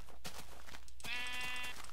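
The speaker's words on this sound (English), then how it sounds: "Oh, I found a sheep." A single drawn-out sheep bleat from the Minecraft Beta 1.9 pre-release in hardcore mode, heard alone over a soft background hiss after a few faint taps.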